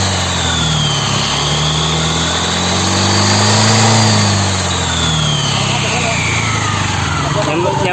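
A TVS Callisto 125 scooter engine with freshly fitted Vario CVT rollers revs hard at high RPM, a loud, close, sustained whine that swells and eases, with a voice talking over it.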